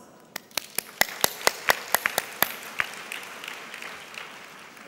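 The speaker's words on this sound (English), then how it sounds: "a round of applause" Audience applause at a nursing congress plenary session, sparse clapping with a dozen distinct sharp claps standing out over a soft hall background that thins out toward the end.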